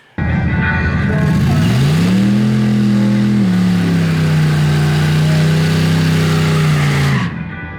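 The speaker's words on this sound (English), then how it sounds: "Launched off the line at a good RPM, be able to roll into it." A Chevrolet S-10 truck launches down a drag strip, its engine roaring loud and close as it pulls hard, the pitch climbing, dipping at a shift, then holding strong before fading at the end.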